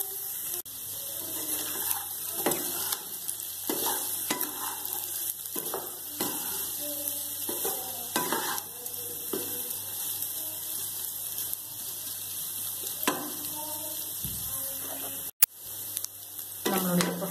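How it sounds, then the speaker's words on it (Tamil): Potatoes coated in Kashmiri chili powder fry in a pan with a steady, close sizzling hiss throughout, broken by frequent scraping stirs and a sharp knock near the end. "நல்லா ஃப்ரை ஆகட்டும்."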